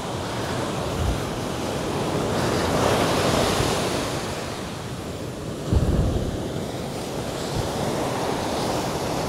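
Strong sea waves wash onto a beach at Botolan, Zambales in the morning, a steady broad roar of surf with a louder crash of breaking water midway, alone with no voices.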